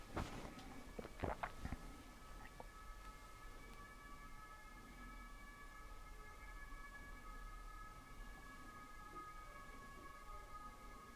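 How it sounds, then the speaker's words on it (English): A distant siren passing outside during an indoor live meeting, its sustained wavering tones faint behind a few nearby knocks or footsteps at the start, then steady room noise. "that siren comes along"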